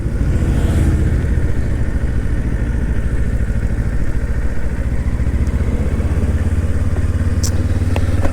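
A motorcycle rolls slowly through a neighborhood, its engine giving a steady, close, chugging putter that stays level throughout, with a few faint clicks near the end.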